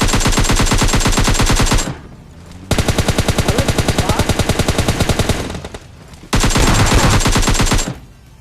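Rapid automatic gunfire from a PUBG Mobile battle, loud and close, comes in three long sustained bursts with brief quieter gaps between them.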